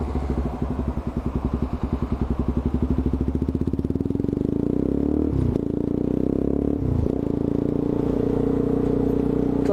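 A motorcycle engine runs steadily with a broken clutch cable, its rapid putter rising into a smooth, continuous idle, with a couple of brief revs or scrapes partway through; close and fairly loud, no speech.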